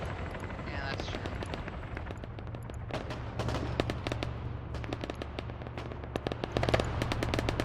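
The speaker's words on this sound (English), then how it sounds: "They're shooting into friendlies again." Dense video game gunfire in a large multiplayer military battle: rapid automatic bursts and scattered single shots crackle continuously at mid distance over a steady low rumble, with radio-style talk underneath.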